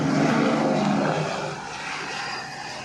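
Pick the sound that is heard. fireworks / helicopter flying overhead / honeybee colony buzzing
helicopter flying overhead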